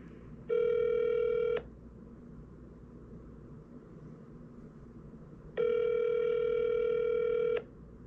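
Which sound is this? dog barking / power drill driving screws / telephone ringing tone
telephone ringing tone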